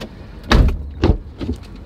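Car doors slam shut outdoors, two loud heavy thuds close by followed by a softer third knock, with no talk over them.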